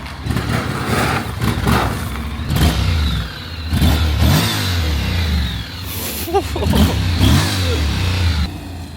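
Motorbike engine revving in repeated loud bursts, rising and falling over steady rumble, with people talking over it throughout.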